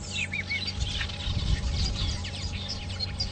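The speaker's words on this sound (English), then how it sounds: "sounds like they're buffalo weavers and a bunch of other birds" A dense chorus of chattering, chirping buffalo weavers and other birds calls continuously from a colony on an African safari reserve, busy and overlapping, with a low rumbling background.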